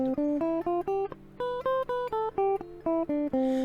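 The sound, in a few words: guitar playing a musical scale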